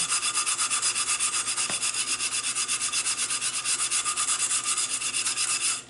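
Close, loud, steady back-and-forth scrubbing of a stained stove burner pan, with a fast, even rubbing rhythm that runs throughout and no talk.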